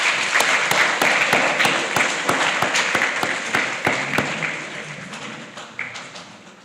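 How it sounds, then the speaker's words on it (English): Grade 7 pupils clapping at a primary school prize giving ceremony, a dense crowd applause with sharp individual claps standing out, strongest at first and gradually thinning and fading toward the end, no voices over it. "Give yourselves a round of applause."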